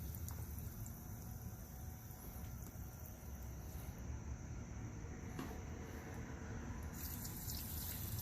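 Pressurized water from a Ryobi electric power washer hisses and gushes out in a steady, loud, continuous rush as the pressure is bled off before the hose is removed.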